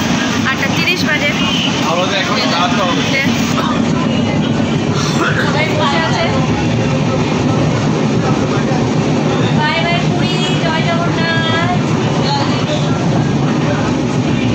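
Inside a moving passenger train, a steady loud rumble and rattle of the carriage runs throughout, with indistinct voices mixed into the noise.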